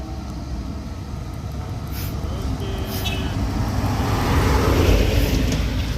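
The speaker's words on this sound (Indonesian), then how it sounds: "mobil Kijang kapsul nanjak mundur di Bukit Kodok" A Toyota Kijang Kapsul reversing up the steep Bukit Kodok incline gives a loud, continuous engine drone under strain, climbing steadily in pitch and volume with road and traffic noise around it.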